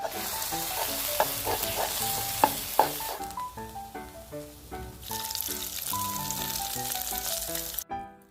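Minced pork is stirred quickly in a pan of hot water to break it apart, giving a close, continuous bubbling sizzle with occasional sharp clicks of the utensil. Melodic background music plays throughout.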